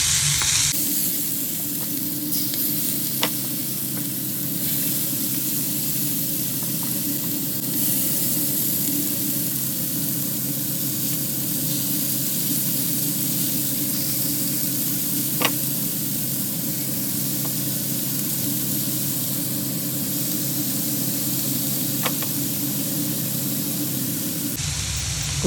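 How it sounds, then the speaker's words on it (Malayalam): Prawns laid out in hot coconut oil fry with a steady, loud sizzle that runs throughout, broken by a few faint clicks of a utensil, with no voices. "ആദ്യം വെളിച്ചെണ്ണയൊക്കെ ഒഴിച്ച് അതിലേക്ക് നമ്മുടെ ചെമ്മീൻ അങ്ങ് നിരത്തുക"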